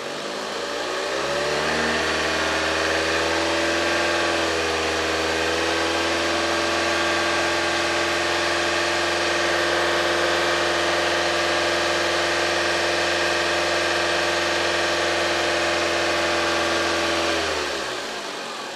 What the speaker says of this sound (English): Increase the RPM to 2500.